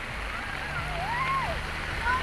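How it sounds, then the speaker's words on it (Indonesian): Floodwater surges in broad, continuous rushing waves, a loud, steady wash with a motor's low hum and voices talking over it. "ombak besar"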